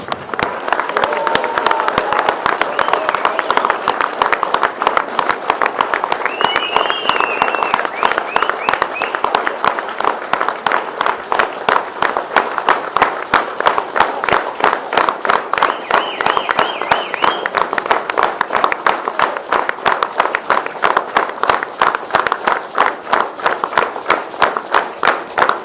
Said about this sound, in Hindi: अब इमरान खान के लिए तालियां बजाएं।